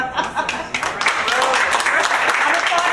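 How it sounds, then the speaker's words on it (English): Studio audience applause on a television talk show, a dense wash of many hands clapping that builds after a brief start and holds steady and fairly loud throughout. "I'm applauding"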